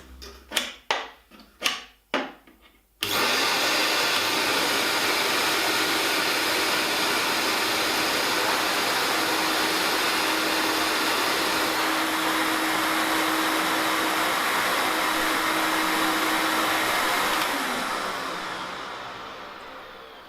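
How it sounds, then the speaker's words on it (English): A Record Power CGV 386 cyclone dust extractor is switched on after a few thumps of handling, then roars loudly and steadily with a broad airy rush for about fifteen seconds before winding down. "I'm going to start the machine and then while it's running attach the two hoses so that you can hear the difference."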